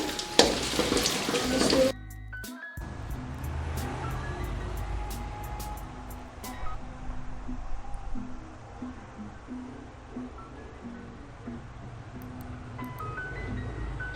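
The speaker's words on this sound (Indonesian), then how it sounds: "Siapkan minyak secukupnya. Masukkan bawang merah." Shallots hiss and sizzle in hot oil for an Aceh-style red chicken dish, a steady, fairly quiet fry that follows a brief loud burst at the start.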